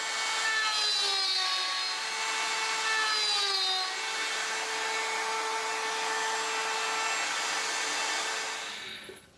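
A power saw cuts dovetail joinery in wood held against a fence for a demilune table. It makes a loud, steady whining cut with a pitch that dips midway and then holds, ending abruptly, with no talking.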